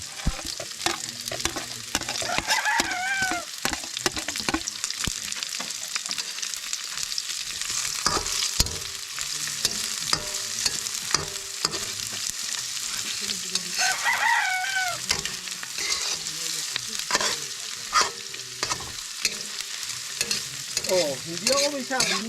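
Onions sautéing in a pan for a river snail dish, with steady frying sizzle and stirring scrapes throughout, while roosters crow repeatedly in the background around the outdoor cooking spot.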